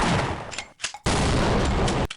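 Gunfire in the Half-Life video game: a dense, loud roar of rapid shots, a brief pause, then a second sustained burst with booming impacts, heard without talk.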